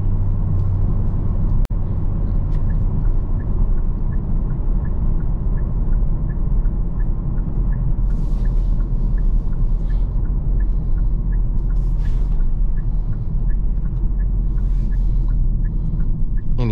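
A 2024 Kia K5 GT cruises with a steady, loud low rumble of engine and road noise inside the cabin, a faint regular ticking and brief hissy swells over the top, and no talk.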